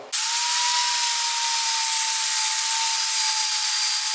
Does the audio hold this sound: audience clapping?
no